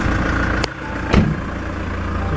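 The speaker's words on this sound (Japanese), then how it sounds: "じゃあちょっとエンジンをかけていきますか。" A 4th-generation Toyota HiAce van with about 127,500 km on it idles steadily and close by, with two short clicks or knocks near the start, no talk over it.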